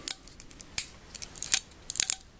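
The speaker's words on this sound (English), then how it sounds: "especially that clicking sound" Jointed plastic action figures make a quick run of sharp, crisp clicks, a dozen or so irregular ratcheting snaps heard up close with nothing else behind them.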